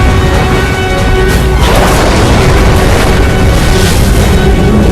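Naval battle with shells exploding on the cruiser Kumano's bridge, loud booming blasts and crashing rumble over a dense continuous roar, close and heavy throughout.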